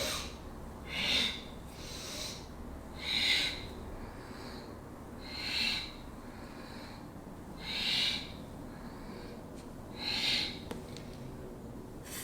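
Forceful bellows breathing of Bhastrika pranayama, five evenly spaced loud breathy rushes about two seconds apart, close and airy with quiet gaps between.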